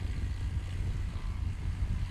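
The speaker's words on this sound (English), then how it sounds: "The Murphy Super Rebel that just taxied by the booth" A Murphy Super Rebel STOL airplane taxis past at a short takeoff and landing competition practice, its propeller engine giving a steady, fairly loud low drone throughout with no voices.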